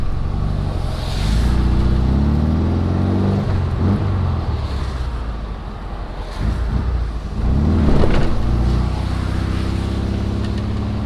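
A 1967 VW Bus drives along a wet, rainy road, its air-cooled engine droning loudly and revving up and down through the gears with tyre and road noise underneath, no talk.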